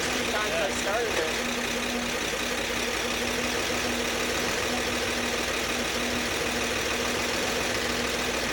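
A 1961 Corvair Lakewood engine idling steadily just after its first start in at least 25 years, a continuous even hum with a faint low drone, with brief voices near the start.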